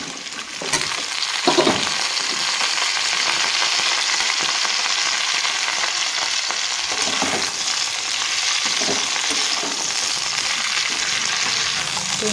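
Potato, cauliflower and radish sizzle steadily in a pan with black cumin seeds, a continuous close frying hiss broken by occasional scraping stirs, with no voices.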